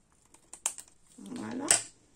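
Scissors snipping paper flowers for a handmade card, a few soft close clicks and then a longer cut sliding through the paper, quiet and with no talking.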